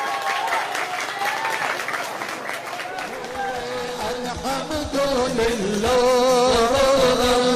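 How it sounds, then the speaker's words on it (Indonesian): Loud, sustained audience applause honours the winners of a quiz competition. The clapping swells louder toward the end, and voices carry over it. "Tepuk tangan yang meriah."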